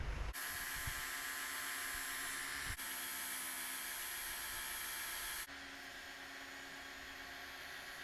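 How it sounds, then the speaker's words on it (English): A small belt sander sharpening high carbon steel knives made from wrenches gives a loud, steady whining hiss close by. It runs continuously, with a brief dip partway through and a slightly lower, softer tone near the end, and nobody speaks. "Now it's time to take the small belt sander and finish sharpening on them."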